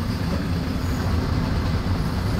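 A freight train hauled by a BR 185 electric locomotive rolls through a station in the Train Sim World 2 simulator, a steady loud rumble of wheels and running gear that fills the whole stretch with no voices.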